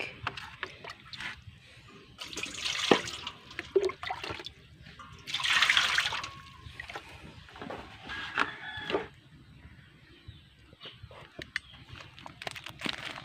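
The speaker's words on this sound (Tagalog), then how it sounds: "So yan, lagyan natin ng tubig." Water poured into a container to clean a diaphragm-type carburetor, heard as a few short, close splashing bursts separated by quiet gaps, with faint handling noises between them.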